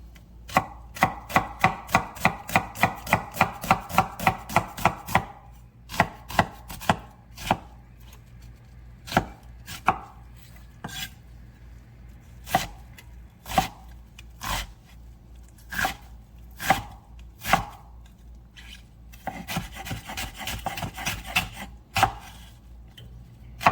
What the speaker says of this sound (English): So go ahead and get your onion cut up.